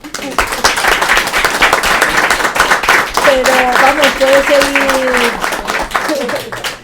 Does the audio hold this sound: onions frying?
no